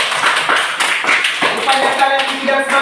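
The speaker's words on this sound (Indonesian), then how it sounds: "Oke, tepuk tangan untuk kita semua." Students in a primary school science class clap their hands together in a steady, scattered patter of claps, with voices mixed in throughout.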